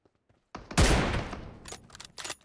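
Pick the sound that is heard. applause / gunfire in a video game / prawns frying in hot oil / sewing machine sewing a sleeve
gunfire in a video game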